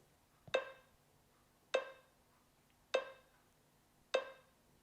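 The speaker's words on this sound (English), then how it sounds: "if I was to play my metronome at 50 beats per minute to give you an idea of what it" A metronome ticks slowly at 50 beats per minute for a piano tempo lesson on Largo: four sharp, evenly spaced clicks about 1.2 seconds apart, each ringing briefly, heard alone against a quiet background.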